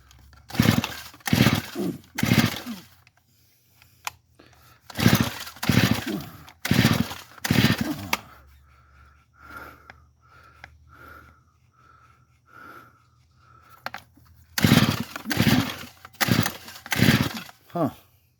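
Gas string trimmer engine being started by pulling the ripcord after priming and choking, with three bursts of rapid loud rasping pull-and-sputter sounds, a brief stretch of lighter sputtering between them, and no voices.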